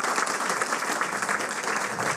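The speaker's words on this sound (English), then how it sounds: "Another round of applause." Audience applause at a Nowruz cultural evening, a dense, steady wash of many hands clapping at close range, continuous and even for a couple of seconds with no voices over it.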